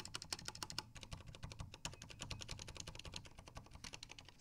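Rapid typing on a computer keyboard with the microphone close to the keys, dense irregular clicking and clacking at a quick steady pace.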